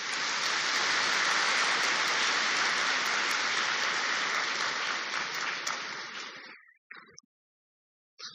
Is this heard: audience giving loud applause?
yes